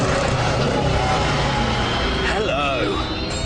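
A Dodge Challenger SRT8's 6.1-litre V8 rumbles steadily close by, with a brief swelling rev toward the end as a voice talks over the engine.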